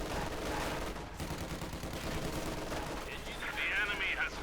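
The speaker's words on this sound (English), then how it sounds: "Grenades there, opening up, killing a few of the units, forcing them out" Gunfire and grenade blasts from a Company of Heroes 2 1v1 match, with flamethrowers also in play; dense, continuous crackling battle noise runs the whole stretch at steady loudness, with a brighter burst near the end, under a commentator's voice.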